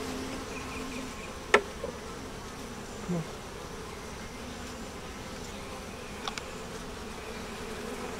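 Honey bees buzz softly and continuously around an open hive with a spring bottom board, a faint low drone with a couple of brief sharp knocks and one short spoken word.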